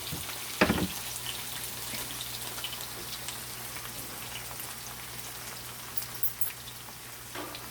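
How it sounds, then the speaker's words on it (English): Onions and green onions sauté in a pan, giving a soft, steady sizzle like light rain that continues throughout, with a single clunk near the start and a low hum beneath. "So right now I'm just sauteing the onions and the green onions."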